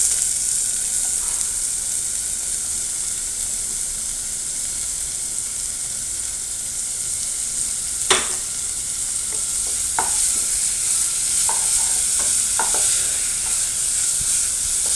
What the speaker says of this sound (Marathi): चला तर मग चांगला कांदा परतून घेऊया.